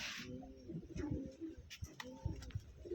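Pigeons coo at a pigeon farm in Rajshahi, several low, throaty rolling calls overlapping at close range, with light fluttering and rustling noises among them.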